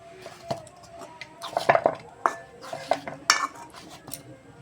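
Warm rice-flour dough for bhapa puli pitha is kneaded and pressed inside a metal karai, giving scattered soft squelches and sharp metallic scrapes and clinks against the pan, close and fairly quiet.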